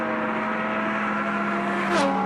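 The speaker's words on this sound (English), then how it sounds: "This is a Lamborghini Gallardo, a four-wheel drive two-seat supercar powered by a V10 5-litre engine." A Lamborghini Gallardo, a four-wheel-drive two-seat supercar with a 5-litre V10, holds a steady engine drone with a clear low tone, rising slightly in pitch near the end, loud and close with no talk.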